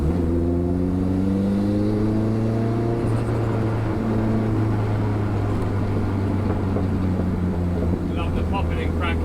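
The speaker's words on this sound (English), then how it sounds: "Love the popping and crackling on overrun." A car engine drones and revs with shifting harmonic tones, ending in a burst of sharp crackles and pops from the exhaust on overrun near the close.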